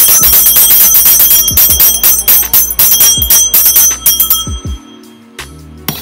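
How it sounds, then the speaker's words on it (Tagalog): A bright, loud bell rings rapidly again and again in close repeated strikes, then stops and gives way to quieter handling noise and a final faint ding. "Nasaan na yung bell?"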